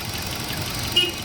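2014 Chevrolet Cruze with a faulty purge valve, its engine idling with a steady low hum and faint knock, briefly and close up.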